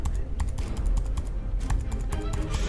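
Fast typing on a laptop keyboard in a quiet room, a dense run of crisp key clicks with uneven rhythm, close and steady.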